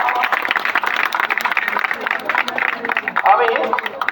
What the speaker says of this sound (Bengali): প্রত্যেকে হাততালি দাও